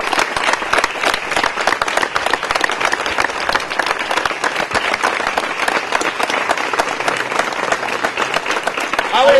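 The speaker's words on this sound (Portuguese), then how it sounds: "Uma salva de palmas." Loud, continuous clapping fills a university hall during a tribute ceremony at USP, a close crowd applauding steadily for the full stretch with a faint murmur of voices underneath.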